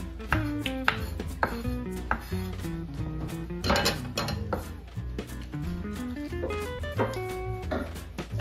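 A knife chops green onion and cilantro for borscht soup in a home kitchen, with quick, uneven cuts against a board and background music underneath.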